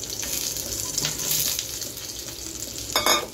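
Potato and green banana fry in a hot pan with a steady close sizzle and light stirring, ending in a brief louder scrape or splash.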